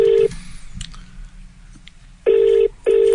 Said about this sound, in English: I'm just going to phone her.